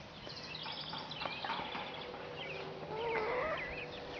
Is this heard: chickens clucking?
yes